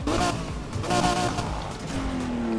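A 6,500 cc V12 car engine in the Need for Speed Heat racing game, revving steadily and loud throughout, with rising and falling tonal whine and no one talking.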